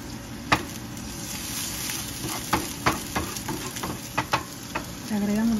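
Garlic and onion fry in a pan with a continuous light sizzle and hiss, heard up close. Sharp clicks and taps from stirring break through it now and then.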